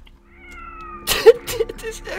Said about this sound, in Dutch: Die kat ook weer fucking irritant.